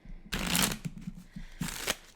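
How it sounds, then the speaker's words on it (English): Playing cards are shuffled by hand in two quick riffling bursts, each a crisp, close, papery flutter, with softer handling taps between them. "So I'm going to shuffle our cards"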